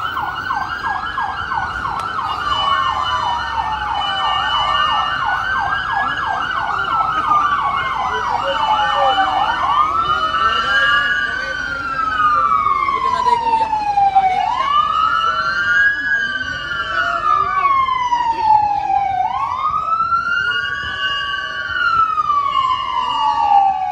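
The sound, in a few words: emergency vehicle siren at a festival parade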